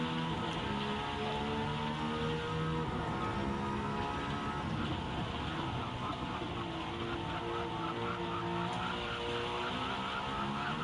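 Race car engine at a Midge race meeting, heard from outside the car, a steady loud drone with layered harmonic tones that holds continuously throughout without pause.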